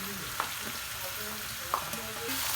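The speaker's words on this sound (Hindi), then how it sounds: "अब हमने अनियन को फ्राई करना है।" About a kilo of sliced onions frying in hot oil, heard as a steady close sizzle with a couple of brief utensil clicks, while a voice talks faintly underneath.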